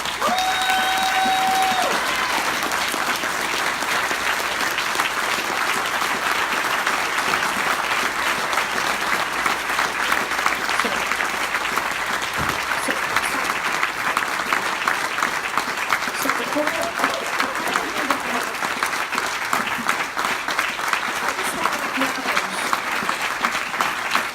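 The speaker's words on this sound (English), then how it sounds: "let's just give him a hand for all of them" An audience at a congressional Democrats' awards event applauds in sustained, dense clapping that fills the room at an even level, with faint voices underneath.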